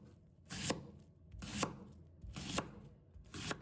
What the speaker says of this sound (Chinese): 再准备半个洋葱， 把它切成片